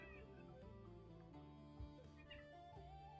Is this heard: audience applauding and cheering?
no